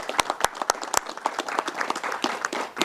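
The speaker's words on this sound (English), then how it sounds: "let's give them a big round of applause" An audience applauds at a bill-signing ceremony hosted by a sheriff's office for the governor, a dense burst of clapping with a few sharp individual claps standing out.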